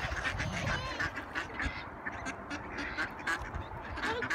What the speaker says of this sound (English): Your duck's right there.